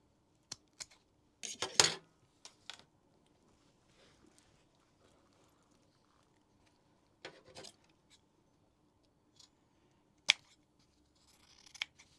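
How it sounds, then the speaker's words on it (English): Scissors snipping loose threads off a sewn zip-top purse, a few quiet close snips and rustles spread out over near silence. "Trim off your threads."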